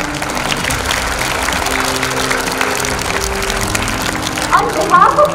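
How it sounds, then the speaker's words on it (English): Audience applause at an Independence Day celebration, steady clapping from a crowd filling the space throughout, with a few louder bursts near the end and a low background hum underneath. "Give him a big round of applause."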